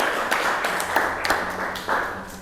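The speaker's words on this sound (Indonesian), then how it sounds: "Oke, tepuk tangan untuk kelompok 2 ya." A classroom of students claps for a group after its presentation, a loose, uneven patter of hand claps with several distinct bursts, fairly close and moderately loud.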